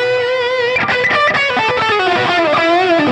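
An electric guitar plays a crunchy, distorted passage through an Axe-FX III modeling a high-power jumped HiWatt DR103 amp, with loud, steady chords and picked notes ringing close and alone.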